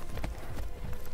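Quick hoof clip-clops of a horse in the LEGO The Hobbit video game tap in a steady trotting rhythm, loud and close, with a busy noisy background.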